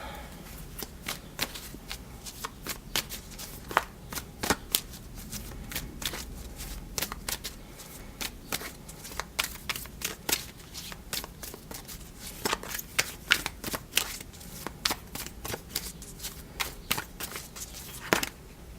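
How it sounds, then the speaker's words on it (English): Tarot cards are shuffled continuously, making rapid, crisp riffling snaps and flutters in an irregular rhythm, close and fairly loud, with no talking. "Let's draw some more cards."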